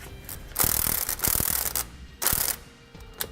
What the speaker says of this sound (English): we're going to take our 15/16 socket and wrench, and we're going to tighten down the bolts on our end links